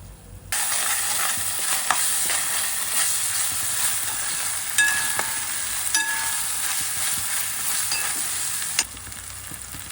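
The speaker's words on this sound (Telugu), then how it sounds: "మూత పెట్టుకుని ఎర్రగా అయ్యే వరకు వేగనివ్వాలండి" Prawn, brinjal and raw mango curry fries under a lid with ginger-garlic paste, giving a steady, close sizzle that starts abruptly, holds evenly for several seconds, then drops back to a lower hiss near the end.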